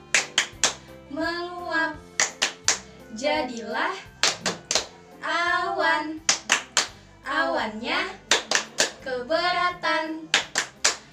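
Children's rhythmic hand clapping in an Indonesian kindergarten rain clapping game, sharp claps falling in steady patterns between bursts of sung and chanted children's voices.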